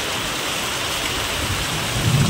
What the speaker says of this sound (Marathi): किती जोरात पाऊस चालू